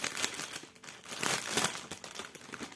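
Cross-stitch kit packaging is unwrapped by hand, producing quiet, close crinkling and rustling of wrapper material in uneven bursts, with no speech.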